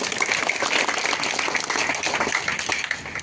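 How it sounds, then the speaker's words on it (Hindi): At a village gathering, a crowd breaks into steady, dense applause with many hands clapping together, moderately loud and sustained throughout. "नरेश भाई के लिए जोरदार ताली बजाइए।"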